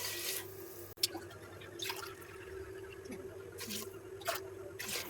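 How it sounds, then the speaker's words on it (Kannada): Water poured over five cups of rice in a cooking pot for biryani, a soft steady trickle with small splashes and drips, fairly faint against a low constant hum. "ಇವಾಗ 5 ಲೋಟ ಅಕ್ಕಿ ತೊಗೊಂಡಿದ್ರು, ಅದರಲ್ಲಿ 10 ಲೋಟ ನೀರು ಹಾಕ್ತಾಯಿದ್ದಾರೆ"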